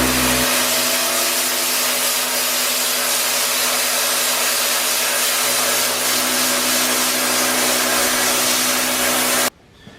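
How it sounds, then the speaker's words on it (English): A power tool cuts through sheet metal just under an eighth of an inch thick, for the sides of a homemade gas forge, making a loud, steady, continuous whine and hiss close by that stops abruptly near the end. "we're going to go ahead and get started on cutting the sheet metal out for the sides of this thing"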